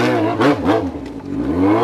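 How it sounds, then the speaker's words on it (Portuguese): An old Yamaha XJ6 motorcycle with no exhaust fitted revs loudly up close, its raw engine note rising and falling in quick throttle blips with a rough, rasping edge. "A moto é velha, não tem nem escape, ó."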